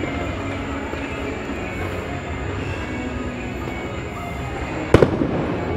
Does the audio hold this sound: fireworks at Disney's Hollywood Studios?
yes